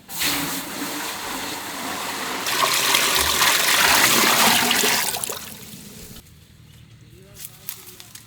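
Water gushes and splashes steadily for several seconds, swelling louder midway before cutting off, leaving quieter trickling and faint clinks.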